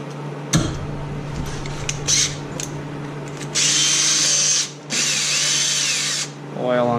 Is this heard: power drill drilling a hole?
yes